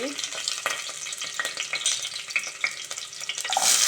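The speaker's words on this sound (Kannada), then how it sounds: "ಇವಾಗ ಒಂದು ಕುಕ್ಕರ್ಗೆ ಸ್ವಲ್ಪ ಎಣ್ಣೆ ಹಾಕ್ಬಿಟ್ಟು ಜಜ್ಜಿಟ್ಟಿರೋ ಬೆಳ್ಳುಳ್ಳಿ" Crushed garlic sizzles and fries steadily in a little oil inside a pressure cooker, with continuous crackling and occasional stirring scrapes, close and fairly loud throughout.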